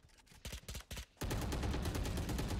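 Gunfire in the video game Valorant: a few short, sharp bursts of shots, then a dense, unbroken stretch of loud automatic fire close by, with no talk.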